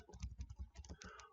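Rapid keystrokes on a computer keyboard while a git commit command is entered, a quick irregular run of close, crisp clicks with short pauses between key bursts.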